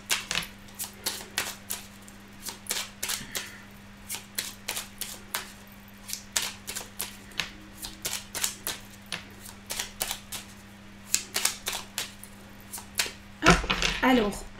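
Tarot cards being shuffled by hand in a series of crisp, rapid riffling and tapping bursts, close and fairly loud, with a low steady hum underneath and a louder rustle at the end.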